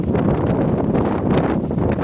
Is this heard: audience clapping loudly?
no